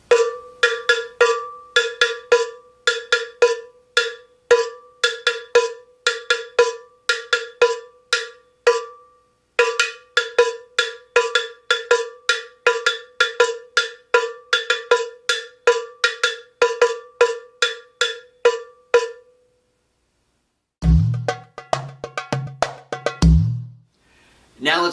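Cowbell played with a stick in a steady, fast repeating rhythm, close and loud, with a brief pause midway; near the end a lower, deeper drum-like thump pattern takes over.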